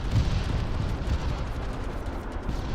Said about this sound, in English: I hear a lot of gunfire there.